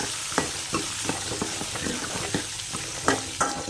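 Small shallots, garlic cloves and green and dried red chillies sautéing in a pan for ginger chutney, a steady sizzle broken by repeated sharp scrapes and clicks of a stirring spoon, close and alone.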